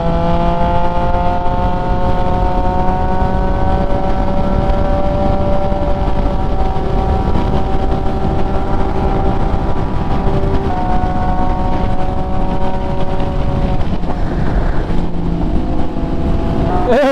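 MV Agusta motorcycle with a check engine light ridden hard, engine droning steadily loud throughout with rising and falling revs, passing near toward the end.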